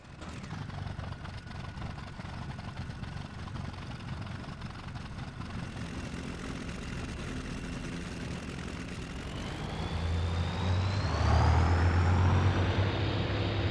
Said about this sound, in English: Engine 1 starting.